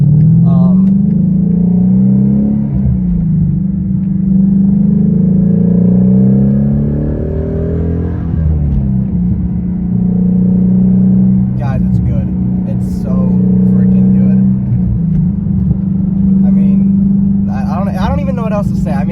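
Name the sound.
Shelby GT350 car driving with manual stick shift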